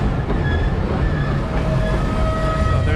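A loaded freight train rolls through the Andes, a loud steady rumble of wheels and wagons close by with faint squealing tones, continuous throughout.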